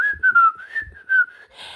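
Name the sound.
imitated whistling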